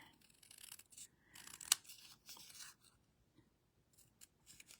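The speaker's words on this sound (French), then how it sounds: "il faut le ratisser un peu. Fait que j'enlève les lignes." Paper behind a label being scraped with a tool to remove lines, heard as quiet intermittent rasping and scratching strokes with one sharp snip-like click, no voices.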